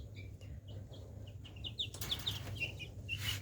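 High, thin cheeping of nearly three-week-old chicks repeats in quick bursts over a low steady hum, growing busier and louder toward the end.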